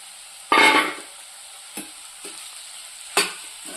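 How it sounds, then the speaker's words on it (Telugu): Soya chunks (meal maker) stirred into gongura curry frying in a pan: one loud sizzling, scraping burst, then a few short, fainter stirring scrapes, with no talking. "మిల్ మేకర్స్ కూడా యాడ్ చేద్దాం దీంట్లో."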